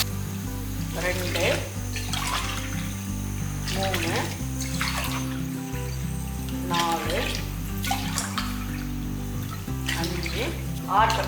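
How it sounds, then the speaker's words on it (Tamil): Water pours steadily into a pressure cooker for ven pongal with a continuous splashing rush, while a person counts aloud over it. "6 டம்ளர் அளவுக்கு தண்ணி ஊற்றினா சரியாக இருக்கும்."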